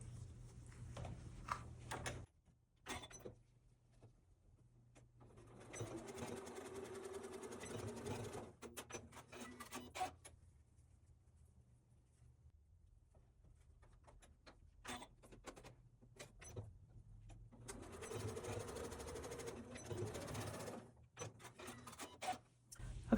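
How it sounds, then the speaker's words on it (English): A sewing machine stitches a pincushion seam in several short runs of close, quiet whirring, with pauses and brief backstitching bursts, and small handling noises between them. "So we're going to sew in about 1 inch, again backstitching at the beginning and end on each side of this last section."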